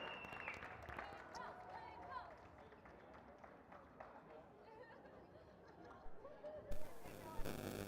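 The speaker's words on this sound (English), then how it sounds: "Let's get a round of applause and get this thing going." Scattered clapping and cheering from a crowd at a fire department Special Olympics dodgeball tournament, mixed with chatter and movement, with louder cheers and claps near the end.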